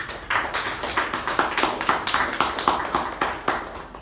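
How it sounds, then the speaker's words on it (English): Small meeting audience clapping at a club gathering, a thin scatter of distinct hand claps in a quick uneven rhythm, close and fairly soft, with no talk. "let's give them a tremendous round of applause"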